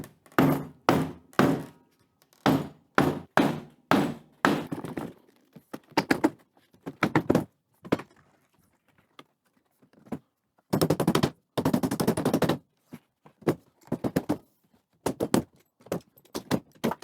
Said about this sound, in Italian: Ora inizio con lo smontare le tre basi del pallet.